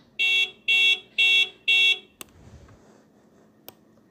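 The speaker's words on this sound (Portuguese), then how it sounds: "E aqui é a buzina." Four loud, evenly spaced honks from a bright, buzzy car horn in the video game Stunt Car A Racing, then quiet with a couple of faint clicks.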